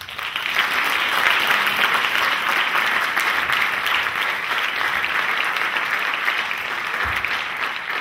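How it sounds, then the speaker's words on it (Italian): An audience applauds at an Italian music presentation, a steady, dense wash of clapping that swells in quickly and holds loud and even for several seconds without pause. "a loro va anche un grande applauso"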